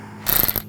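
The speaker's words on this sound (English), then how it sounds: "use a 10mm ratchet wrench" A 10mm ratchet wrench turning a bolt on the hood hinge of a 2004–2008 Ford F-150, a quick close burst of rapid ratcheting clicks lasting under half a second.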